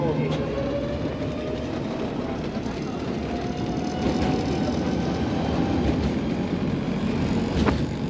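A festively decorated tram rides through Budapest streets, a loud, continuous rumble of rolling wheels and motor with a thin rising whine, steady and close for the whole stretch.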